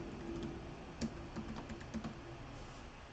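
Quiet, irregular keystrokes on a computer keyboard while installing Ubuntu, soft tapping clicks scattered over a low steady hiss.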